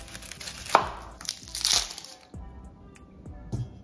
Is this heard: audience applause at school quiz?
no